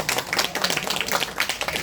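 An audience in a lecture hall gives the lecturer a short burst of applause, many hands clapping at once in a dense, fairly loud patter that lasts under two seconds.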